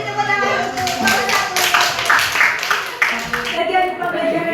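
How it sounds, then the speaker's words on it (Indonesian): A classroom of students claps for group number 1, a short burst of close hand claps heard under a teacher's speech, the claps overlapping with the speaking voice. "Jadi tepuk tangan untuk nomor"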